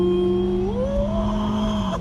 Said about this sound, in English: the car can feel I'm gonna floor it right now